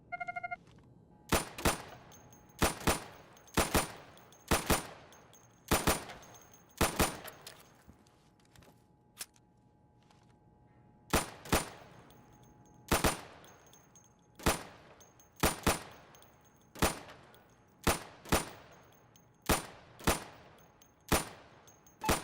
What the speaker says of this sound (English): Go over to the firing booth. Take down those targets as quickly as you can.